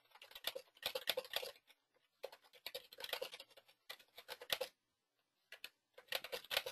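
Typing an email on a computer keyboard: bursts of quick, close key clicks in several runs separated by short pauses, with no talking.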